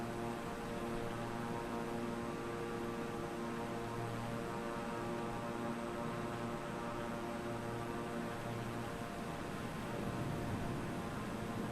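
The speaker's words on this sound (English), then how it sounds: "You can hear the wind." Steady, dense rushing wind roars without pause throughout, mixed with a constant engine drone, while flying through a tropical storm in Microsoft Flight Simulator 2020.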